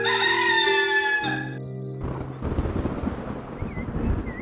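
A cartoon rooster crows loudly with a drawn-out, tonal cock-a-doodle-doo, then gives way to rough, noisy background sound and faint chirps.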